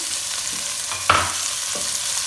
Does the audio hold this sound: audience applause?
no